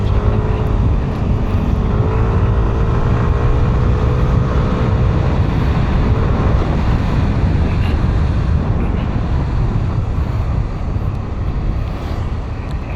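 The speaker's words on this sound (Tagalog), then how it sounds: "Lakas talaga ng NMAX V3" A Yamaha NMAX V3 scooter accelerates on a ride, its engine note climbing and falling over steady, loud wind rumble throughout.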